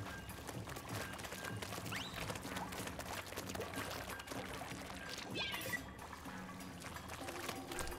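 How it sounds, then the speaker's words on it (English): Water spraying onto a lawn in the Splatoon 3 video game, a steady liquid pouring and splashing sound over busy game audio, continuous and moderately loud throughout. "But let me just water the lawn real quick."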